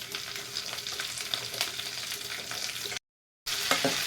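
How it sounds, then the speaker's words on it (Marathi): Cumin and mustard seeds crackle in hot oil, a dense continuous sizzle peppered with sharp little pops, close and fairly loud, cutting out briefly before the sputtering resumes. "जिरे मोहरी तडतडत आहेत"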